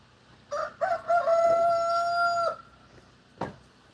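A naked neck rooster crows close by in one long drawn-out call with a rising start and sustained tone, followed by a short separate sound near the end, with no talking.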